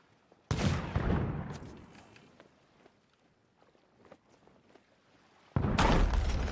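Gunshots in the Sea of Thieves pirate game: two loud, abrupt broadband blasts, one near the start and one near the end, with a quieter rumbling, clattering tail in between.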